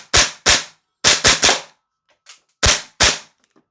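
A Noveske Ghetto Blaster gas blowback airsoft rifle firing on semi-auto during a double-feed test, seven loud, sharp close cracks in uneven groups with short silent gaps.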